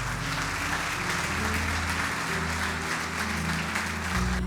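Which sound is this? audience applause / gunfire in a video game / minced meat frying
audience applause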